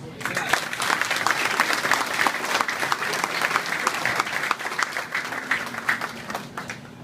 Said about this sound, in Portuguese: Peço uma salva de palmas para todos nós